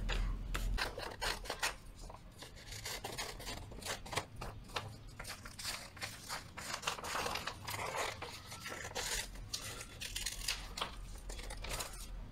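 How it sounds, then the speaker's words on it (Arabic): Scissors cut through a paper sewing pattern for a twist cone bag, giving a steady run of close, rasping snips and slides that carry on without pause and with no talking. "انا قصيت بقى اهو الباترون خلاص"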